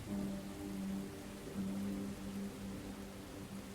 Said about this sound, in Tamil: மழை பெய்யுது ஃப்ரெண்ட்ஸ்